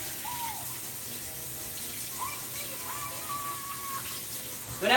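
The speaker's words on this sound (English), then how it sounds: "Rinse off my knife." A kitchen tap running steadily as a knife is rinsed under it, a continuous close water hiss with a few faint clinks and a louder splash at the end.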